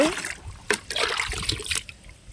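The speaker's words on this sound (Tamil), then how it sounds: "ஒவ்வொரு ப்ளூ பக்கெட்லேயும் 4 மக்கு ஊற்றிக்கலாங்க இந்த கரைசலை" Rice and onion peel solution is poured from a mug into a blue bucket, a brief splashing trickle with a few distinct pours, close by.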